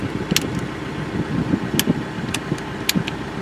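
A car engine idling steadily, a low rumbling hum with faint mechanical ticks on top, close and moderately loud, no talking.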